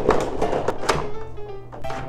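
A sliding door on a Kidzone interactive baby playpen closes with a short, close plastic thunk and a few light knocks and rattles, with no voices.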